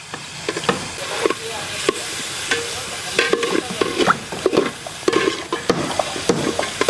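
Curry leaves and tomato fry in a pan for brinjal chops while a spoon stirs and scrapes repeatedly, a low steady sizzle under irregular close scraping strokes, with no talking.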